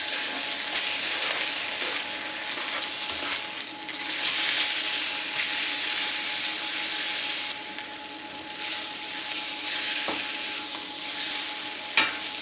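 Beef hitting a hot wok with olive oil sizzles loudly and steadily, with occasional stirring scrapes and a small clank near the end.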